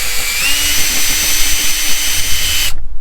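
A power drill bores through the rubber-coated plywood roof of an RV, a steady loud high-pitched whine grinding continuously for nearly three seconds before it stops abruptly into quiet.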